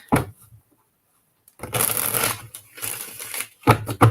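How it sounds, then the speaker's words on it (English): A deck of playing cards is riffle-shuffled up close in quick bursts: a brief flutter, a pause, then a longer crisp riffle and a short bridge, with sharp taps at the end. "One more shuffle."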